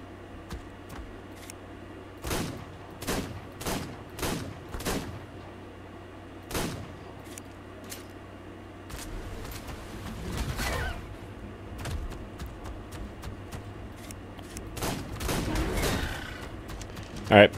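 Gunfire in the Ark game, a series of crisp, moderately loud shots in an uneven rhythm, some spaced apart and some in quick bursts, over quiet ambient background with occasional talk.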